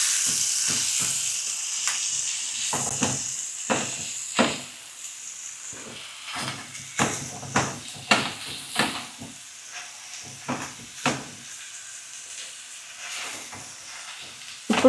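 A masher repeatedly presses chicken kheema in a hot pan, producing a series of soft thumps and squelching strokes in an uneven rhythm over a low sizzle, close up, with no speech.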